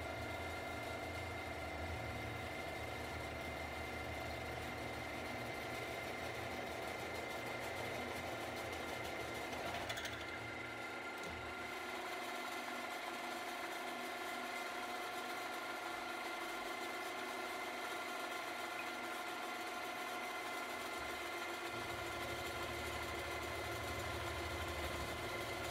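A steady mechanical whine of a 13 mm oiled drill bit grinding through metal runs continuously for the full length, loud and close, with a brief shift in tone midway.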